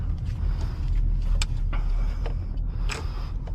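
Cars pass on a road along the South Shore, a continuous traffic rumble with occasional creaks and brief hisses of vehicles going by, heard from nearby without speech.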